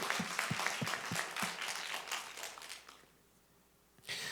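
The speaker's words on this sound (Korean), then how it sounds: "하나님께 박수의 영광" A church congregation applauds during a worship service, with rapid, fairly close clapping that fades away after a few seconds before a new sound begins.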